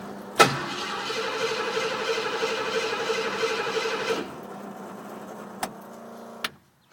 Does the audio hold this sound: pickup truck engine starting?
yes